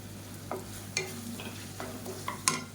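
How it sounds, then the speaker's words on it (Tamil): Tomato and spices for kuzhambu sauté quietly in a pan, a soft steady sizzle broken by a few faint scrapes and taps of a spoon stirring. "இப்போ இது எல்லாத்தையும் ஒரு ரெண்டு நிமிஷம் வதக்கிட்டு"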